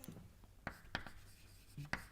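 Chalk or marker writing out equations on a board during a boundary layer theory lecture: a few quiet, scratchy strokes spaced irregularly over a soft room background.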